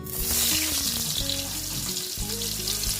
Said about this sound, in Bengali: এগুলোকে আমি সব ভেজে নেবো